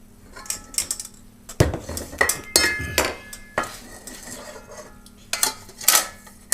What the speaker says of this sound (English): Place the crust, the bottom in the pan.